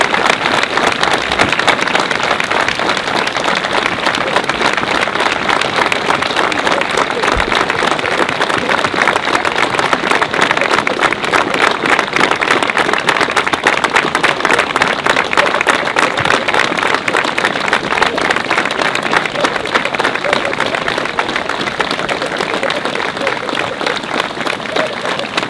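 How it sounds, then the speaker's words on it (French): Sustained applause from a crowd at an outdoor citizens' rally in Pouillon supporting municipal workers, a dense, steady wash of clapping that holds at full strength for the whole stretch without a break. "Je vous propose, s'il vous plaît, de leur faire un tonnerre d'applaudissements"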